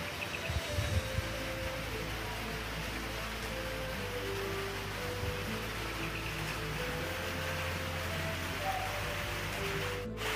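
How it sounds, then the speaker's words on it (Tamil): Steady rain falling on a night in Kodaikanal, a dense even patter that runs without pause, with faint insect-like tones and a low hum beneath it. "இப்போ தான் கிளைமேட் அப்படியே மாறி மழை பெஞ்சிட்ருக்கு"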